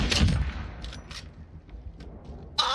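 Enemy gunners fire in a Modern Warfare Cyber Attack match: a loud burst of gunfire at the start, scattered fainter shots in the middle, then another sharp burst at the end.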